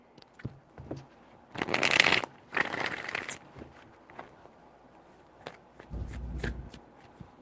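Two bursts of tarot card shuffling, a riffle followed by a second, with light handling taps and rustles before and after.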